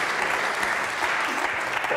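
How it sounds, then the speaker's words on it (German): Audience clapping fills the room at a cultural and creative industries event, a steady dense wash of many hands held at an even level for the full stretch, with faint voices barely underneath. "Also da kann man ruhig klatschen"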